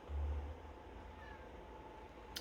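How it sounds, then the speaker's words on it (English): A house cat gives a brief, faint meow against a quiet indoor background. "And the cat is saying hello."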